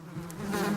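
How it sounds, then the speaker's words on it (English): Wasps buzzing around a nest outdoors on a nature hike, a steady low droning hum with a brief rise in intensity, moderately close and heard alone without talk. "Because wasps sting if you bother them."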